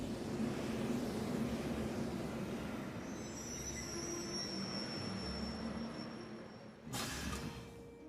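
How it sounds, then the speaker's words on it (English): A train rolls through Trista station in Trails of Cold Steel, a dense rumble of rails with a high thin wheel squeal drifting above it, ending in a short sharp burst, no talking. "The Trista train station."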